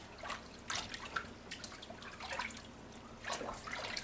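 Water trickling and splashing as soap is rinsed off a baby in a bath, faint and close, in a few soft irregular swishes.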